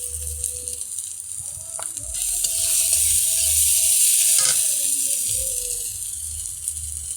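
Turmeric goes into hot sizzling oil while cooking a katla fish curry, a steady hiss of frying that swells in the middle and eases off, with faint stirring clinks and no talk.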